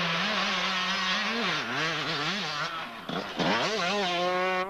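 A Bavin Yamaha enduro motorcycle racing in a British enduro championship round at Breckland, its engine loud and close, revving up and down through corners with a brief cut-off and then hard acceleration, no voices.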